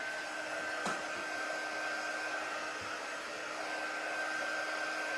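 Hair dryer blowing on a wooden piece for a DIY project, a steady whirring hiss with a constant high whine, continuous and close, with a brief knock near the start.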